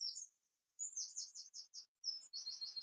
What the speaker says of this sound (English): Can you hear the birds outside?